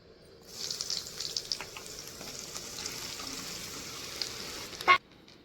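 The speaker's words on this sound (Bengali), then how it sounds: "আমার তেল গরম হয়ে গেছে, সয়াবিনগুলো এবার ভেজে নেব।" Soybean chunks frying in hot oil give a steady, dense sizzle that starts abruptly and holds close and loud, with a sharp clatter near the end before the sound cuts out.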